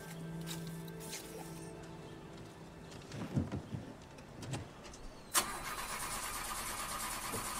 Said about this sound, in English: Ah, the old car won't start.